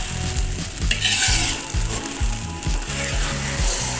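Sardines in sauce sizzle in a pan while being stirred, a loud frying hiss with repeated rhythmic scraping strokes of the spatula, no voices.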